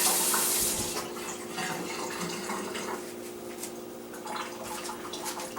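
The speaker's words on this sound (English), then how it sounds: "Let me wash my hands off." Hands washed under a running kitchen tap, a steady close splash of water with shifting spatter as the hands move through the stream.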